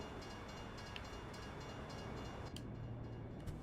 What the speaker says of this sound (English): Short train.